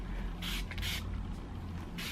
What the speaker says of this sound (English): I spray all of my hair again with heat protectant spray